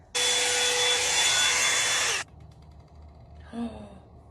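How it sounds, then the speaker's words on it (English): A hair dryer roars loudly for about two seconds, then cuts off, leaving a quiet room and a brief breathy sound near the end. "And now I have my blow dryer."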